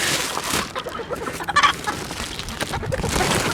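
A hen in a breeding-pen setting clucks in short, irregular bursts, fairly close, against steady background noise, with no voices.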